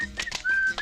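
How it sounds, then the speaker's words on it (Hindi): A short whistle blast sounds as a clear, steady high tone of about a third of a second, flanked by brief chirpy fragments, fairly faint and alone. "सीटी बज गई"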